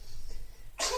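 A single sharp sneeze bursts out near the end, loud and close, after a moment of quiet room tone.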